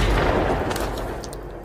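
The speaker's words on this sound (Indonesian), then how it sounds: "menembakkan pistol ke dalam mulutnya hingga meninggal" A pistol shot rings out in a film scene, a loud burst followed by a heavy, rumbling tail that slowly dies away, with no voices.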